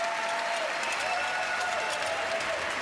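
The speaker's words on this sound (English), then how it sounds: "You can see his reaction and the reaction of this crowd." A crowd at a Special Olympics World Games powerlifting event in Berlin applauds steadily and loudly after a lift, with faint cheering mixed into the continuous clapping.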